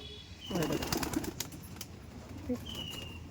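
Pigeons in a loft give soft coos while wings flap in a short flurry, with a few quieter rustles after. The sounds are faint and fairly close over a low background hum.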